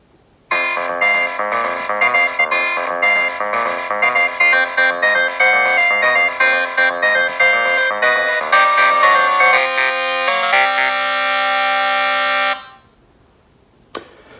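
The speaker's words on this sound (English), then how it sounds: "if you accidentally die, the death music fade in on the next beat" Video game theme music plays loud and steady with a clear melodic beat, then changes on the next beat into death music with long held tones before fading out.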